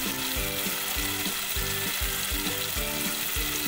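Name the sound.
red chili masala sizzling while roasting in oil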